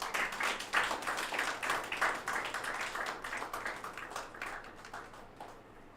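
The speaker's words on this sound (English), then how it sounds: "Please give him a round of applause" An audience at a national summit on geospatial technology claps in a steady round of applause, dense at first and then gradually thinning and fading out with no voices.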